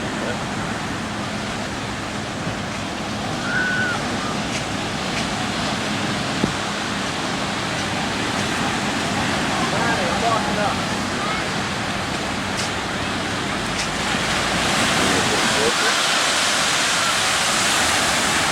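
Ocean surf rolls onto an uncrowded beach in a steady, close, broadband roar that swells a little louder near the end, with no talking.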